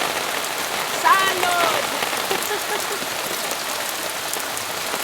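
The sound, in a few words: rain falling on a surface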